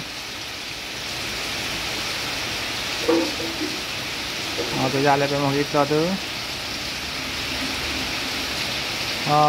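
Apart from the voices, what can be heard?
heavy rain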